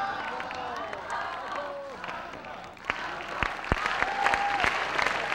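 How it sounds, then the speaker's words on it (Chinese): Applause from an audience at a 1998 college street-dance showcase crackles steadily, with scattered sharp claps and a voice talking over it. "大家给热烈的掌声"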